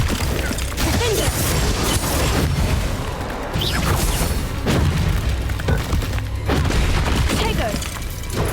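Confringo fire-blast spells cast in the Hogwarts Legacy video game, booming explosions and crackling impacts layered over a dense, continuous barrage of game combat noise and music, loud throughout.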